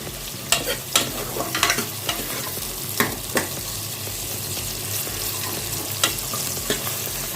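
Spoon stirring a red radish chicken gravy in a sizzling pan, steady frying hiss with repeated scraping knocks at an irregular rhythm, close by and without talk.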